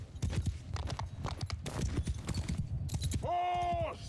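Cavalry horses in Mount & Blade II: Bannerlord gallop in a dense, rapid hoof rumble under a man giving battle orders, ending with a brief horn-like tone.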